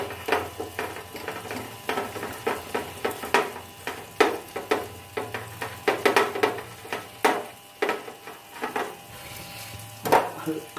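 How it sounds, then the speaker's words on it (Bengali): A spoon stirs a pan as water is poured in while cooking a fish curry of small rohu fish, with steady sizzling and frequent scraping clinks of metal on the pan, close and lively, with brief speech in between. "এটার মধ্যে অল্প অল্প জল ঢেলে নেবো দিয়ে এটাকে মিক্স করে নেবো ভালো মতো করে"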